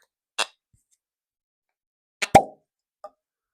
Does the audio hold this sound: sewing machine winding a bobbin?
no